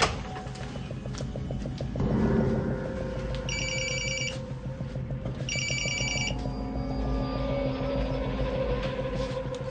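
A telephone rings twice, two distinct electronic bell bursts clearly standing out over a busy background of engine-like drone and rhythmic clicking.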